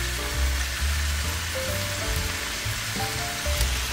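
Beef stew meat frying in a pan with onion powder and garlic powder, a steady crackling sizzle running throughout, close and fairly loud with no talking.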